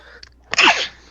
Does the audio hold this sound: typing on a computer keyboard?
no